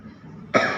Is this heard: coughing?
yes